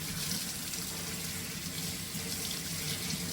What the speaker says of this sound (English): And now we're going to soak it in water